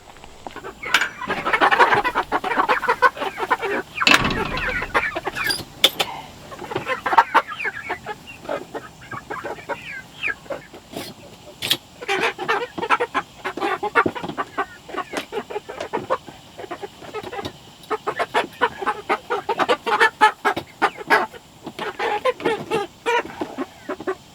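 Chickens clucking at a backyard coop, readied for a poultry show, with steady overlapping clucks and squawks close by for the whole stretch, some louder calls in bursts and a few sharp knocks and handling noises mixed in.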